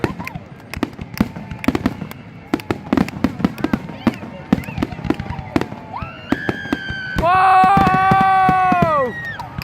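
Fireworks grand finale at Morningside park: a rapid barrage of sharp bursts and crackles, then rising whistling shells near the end, with people exclaiming and cheering throughout.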